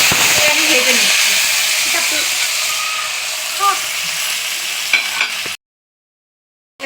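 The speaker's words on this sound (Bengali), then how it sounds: "এবার আমি কিছু পেঁয়াজ রেখেছি, এটা করার জন্য আমি ভেজে নিচ্ছি।" Onions frying in a pan for a Bengali biryani, a steady broadband sizzle with occasional stirring scrapes for about five seconds before cutting to silence.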